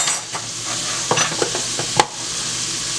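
Onions sautéing in a pan for homemade pumpkin soup: a steady broadband sizzle fills the clip, broken by a few sharp spoon scrapes and clinks against the pan, close and alone with no talking.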